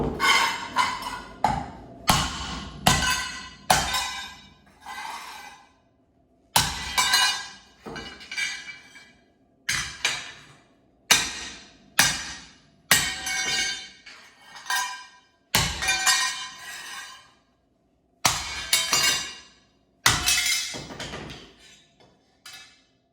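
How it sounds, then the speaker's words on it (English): A 4-pound sledgehammer striking a welded test piece again and again, about a dozen loud ringing metallic blows in irregular bursts with short pauses between, close by and with no voices. "This is a probably 4-pound sledgehammer, biggest one I got"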